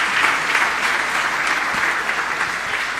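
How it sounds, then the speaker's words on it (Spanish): A church congregation claps together during a Mass at a parish in Asunción, a dense, steady burst of applause filling the space without pause. "Un fuerte aplauso entonces para todos nosotros."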